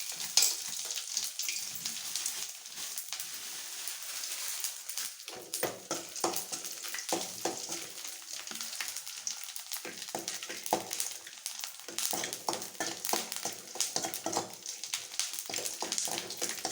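Ghee sizzles in a pan as sweets are prepared, a quiet, close, crackling hiss of many small irregular pops throughout, with no talk.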